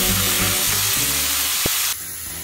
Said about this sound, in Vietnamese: Lật lại chiên một lần nữa.